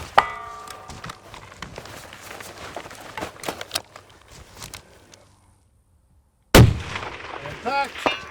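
Rifle fire at 1,000-yard targets from a rare gun, heard outdoors as a single loud, sharp shot after a stretch of quiet and faint shuffling sounds, with the report rumbling and fading away.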